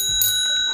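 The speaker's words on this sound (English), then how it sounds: "Oh yeah, the bell." A new bell on a bicycle gives a brief, bright metallic ring close by, its tone sustaining through the short moment with no talking over it.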